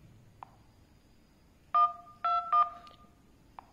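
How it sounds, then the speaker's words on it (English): Android phone keypad dialing tones come as three clear, loud beeps in quick succession, the last two close together, with faint soft clicks before and after them. "If I dial like this"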